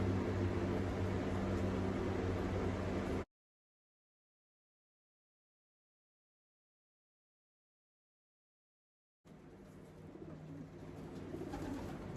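Pigeons cooing in a loft, soft low coos over a steady hum, heard in two stretches split by a long silent gap.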